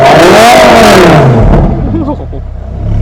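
A 2008 Lamborghini Gallardo LP560-4's loud stock exhaust roars in a rev and then drops to a rumbling idle, with a voice speaking over the engine.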